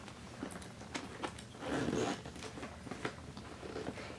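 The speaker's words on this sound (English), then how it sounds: "And then we're going to zip this baby up." A Louis Vuitton Duomo hobo bag being zipped closed, close up: short zipper rasps and small handling taps, then a longer continuous zip in the middle, followed by a few more quick pulls.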